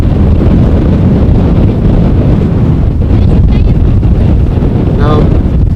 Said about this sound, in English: Now, the wind is causing some vibrations.